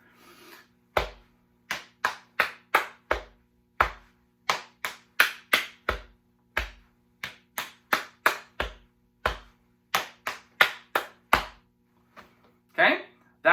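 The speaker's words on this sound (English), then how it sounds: "So it goes chest, lap, lap, clap, clap, chest" Body percussion pattern of chest slaps, lap pats and hand claps, played four times through in a steady rhythm during a school music lesson; a series of sharp, close, dry hits with brief gaps between repetitions, with a short voice at the end.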